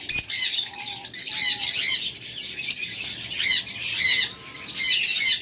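Pet birds kept in pairs for sale squawk in repeated loud, harsh bursts close by, with a few softer whistled notes between calls.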